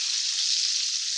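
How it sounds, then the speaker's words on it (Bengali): Eggs sizzle steadily in hot oil with a little turmeric, gently stirred in a pan, giving a close, continuous high frying hiss with no talk. "অল্প নাড়াচাড়া করে ডিমগুলো লাল করে নেব"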